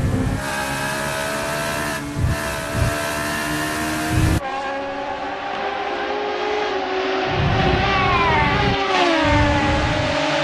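Racing car engines in a sim racing game at Mugello: a steady high-revving whine with pitch shifts as gears change, an abrupt cut partway through, then rising and falling engine notes continuing.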